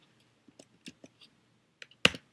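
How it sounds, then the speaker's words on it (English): Someone types on a computer keyboard while writing PHP code, giving a handful of quiet, sparse key clicks followed by a louder, sharper key strike at the end. "I'm going to type out blog info."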